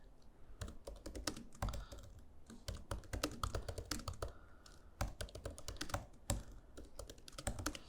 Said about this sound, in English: You guys have to forgive my typing errors today.